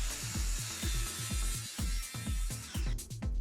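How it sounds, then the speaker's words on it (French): A Bosch Pro plunge saw working through solid beech wood gives a series of quick, regular rasping strokes, about a dozen rhythmic bursts in a row, close and moderately quiet. "J'en profite pour inaugurer ma nouvelle scie plongeante."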